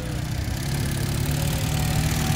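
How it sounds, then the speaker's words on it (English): A Ural motorcycle engine runs steadily at low revs during a stunt display, a close, even mechanical drone with no talk. "Oh, Carl's steering it now, give it a little bit, but it can, at that low revs, complete the circle."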